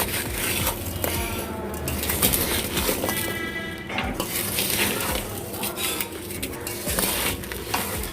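A spoon stirs red chili, turmeric and black pepper into an amla pickle, scraping and clinking against the bowl in a busy, continuous rhythm, close and fairly loud.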